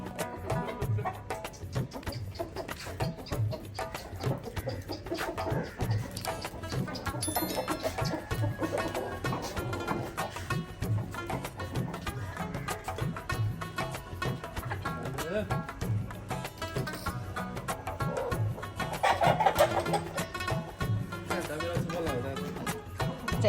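Chickens cluck and murmur continuously nearby in a busy flock, with occasional louder squawks rising above the steady chatter.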